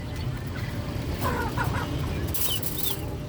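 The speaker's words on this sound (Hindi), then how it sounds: "ये हमारा टर्की का चूज़ा" Turkey chicks chirp and peep in short bursts over a steady low rumble, with a few higher calls near the end.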